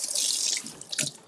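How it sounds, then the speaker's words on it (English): Tap water runs briefly over blueberries being rinsed at a sink, a close hissing splash that ends in a short watery spatter. "Let me rinse off some blueberries."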